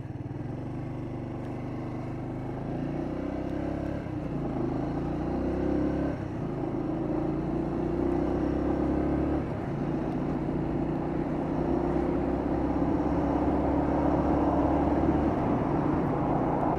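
A Kawasaki Estrella motorcycle is ridden on the road, its single-cylinder engine note rising and shifting through gears with a steady, fairly loud rumble and wind noise throughout, no voices.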